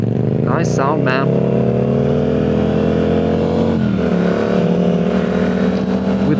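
A Yamaha naked motorcycle idles steadily on a Stockholm street, its engine a continuous low drone with a brief rise and fall in pitch near the middle, while someone speaks over it.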